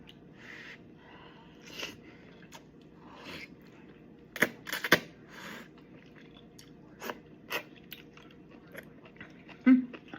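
Spicy, cheesy enoki mushrooms dressed in creamy habanero sauce, fish sauce, sesame oil and soy sauce being chewed up close, with scattered crisp crunching bites and soft mouth sounds over a quiet background.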